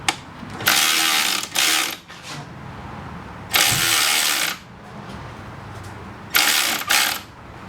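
Ratchet wrench tightening the alternator bolt on a 2005 Subaru Legacy, three loud close bursts of rapid clicking separated by pauses, with quieter clinks and handling noises in between.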